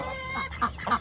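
Chickens give a couple of quick clucks, close by, amid a busy barnyard hum.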